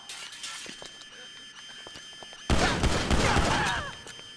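Gunshots in Grand Theft Auto 5 during a morgue escape: a quiet stretch with faint background sounds, then a sudden loud volley at about two and a half seconds with rapid shots and ringing debris that fades away.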